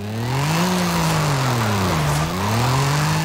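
A powerful car's engine revving hard under throttle in Forza Horizon 5, a loud steady drone swooping up and down in pitch as the gas is worked, with no talk over it.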